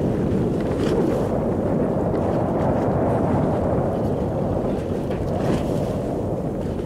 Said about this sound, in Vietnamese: mình nghe được cái tiếng động cơ luôn các bạn